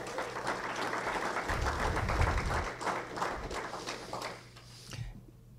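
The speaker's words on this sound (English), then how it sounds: "let's give him a round of applause" Fairly faint crowd applause for a football coach and staff at a football media day, a busy patter of clapping with a low rumble underneath that fades out near the end.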